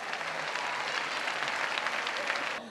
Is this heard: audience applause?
yes